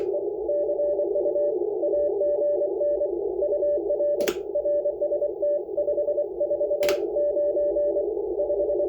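An amateur radio station comes in on a 20 m gain antenna as a steady narrowband tone held under a hiss of band noise, with two sharp clicks partway through and no talking.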